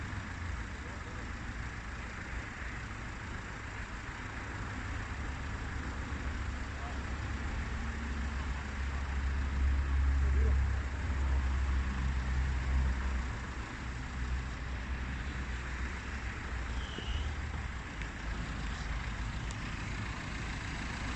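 A Peugeot car engine idles during DPF cleaning, giving a steady, low, continuous rumble that swells slightly midway and holds at an even level throughout.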